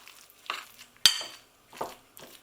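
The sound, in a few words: stirring seasoning into warm soya mince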